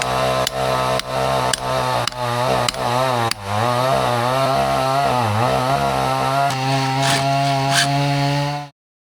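A chainsaw cuts into a tree trunk, opening with several short revving bursts, then settling into a long, loud, steady drone that wavers in pitch as the chain bites before cutting off abruptly.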